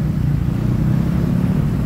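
Morning traffic of motorcycles and cars rumbles nearby in a continuous low, dense engine drone with no distinct passes.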